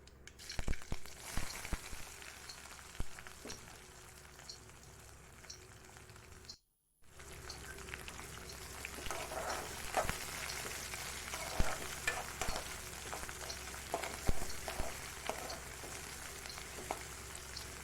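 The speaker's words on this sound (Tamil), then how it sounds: "நம்ம கட் பண்ணி வச்சுருக்கிற வெங்காயம் பச்சை மிளகா வரமிளகா கருவேப்பிலை சேர்த்துட்டு நல்லா வதக்கி எடுத்துக்கலாம்" Onion, green chilies, dried red chilies and curry leaves sizzle and crackle in hot oil in a pan, with occasional stirring scrapes, a continuous close frying hiss that briefly cuts out midway.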